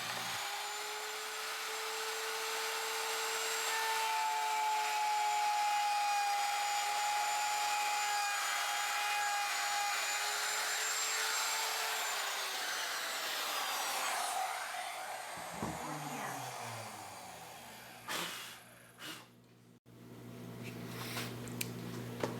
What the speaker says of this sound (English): Did you notice on that cut the router was pulling a little bit?